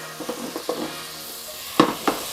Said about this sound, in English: Next we want to melt a stick of butter